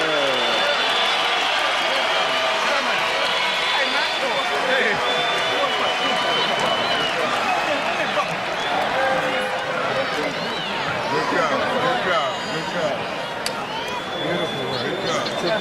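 A small boxing arena crowd cheers and applauds after a knockout, a dense steady roar of voices and clapping that holds for the whole stretch.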